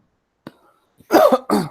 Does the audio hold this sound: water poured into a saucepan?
no